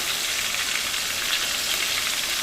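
Small baby eggplants shallow frying in hot oil over high heat, a steady dense sizzle crackling evenly throughout with no voices.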